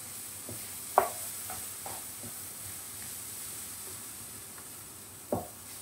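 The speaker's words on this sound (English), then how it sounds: "Stir for a few seconds." Mushroom mixture stirred in a pan over reduced heat for mushroom croustades, a soft steady sizzle with a few sharp spoon scrapes and taps against the pan.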